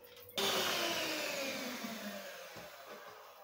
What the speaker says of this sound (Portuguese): Agora com a batedeira a bater lentamente